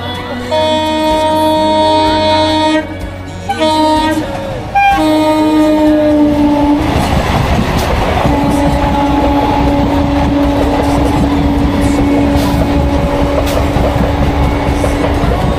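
A train at Hirdarpur railway station sounds its horn in several long, loud blasts, then a heavy rolling rumble and clatter of the train take over with another sustained horn blast.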